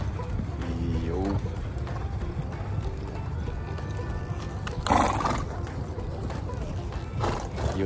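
Horses gathered in an outdoor area at eight in the morning, with whinnies and hoof clops amid a steady busy background noise, and voices in the area.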